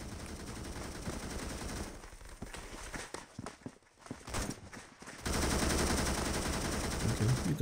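Bursts of automatic fire from an M1918A2 in the Roblox shooter Phantom Forces, sustained rapid shots for several seconds, then broken sporadic bursts and quieter gaps before heavy continuous firing resumes, loud and close.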